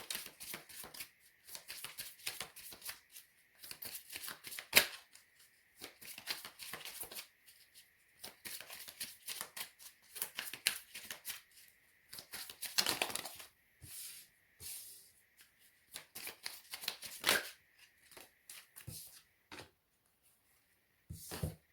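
Tarot cards being shuffled in repeated riffling bursts with short pauses between, crisp papery flutters close up and no talking over them.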